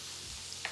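Steak sizzles steadily in a hot pan just after being flipped, a soft continuous hiss with a faint tick near the end, quiet and without talk.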